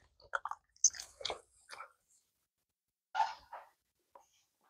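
Wet, squishy chewing of a large wad of Big League Chew bubble gum, close up in short bursts with pauses in between, quiet and alone.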